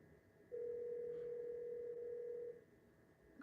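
A phone call rings out unanswered: one steady ringback tone holds for about two seconds, with quiet room sound before and after and no voices.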